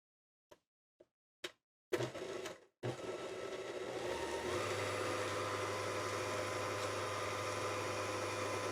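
An electric mixer starts up on cookie dough for Toll House cookies after a few taps and knocks, then runs with a steady whirring motor hum that shifts to a lower, heavier drone.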